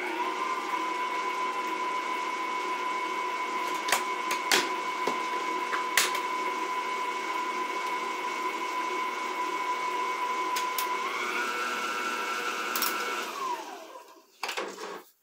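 An electric mixer runs steadily through Christmas cookie dough, a constant motor hum with clacks as the beaters knock the bowl, its pitch shifting near the end before it stops.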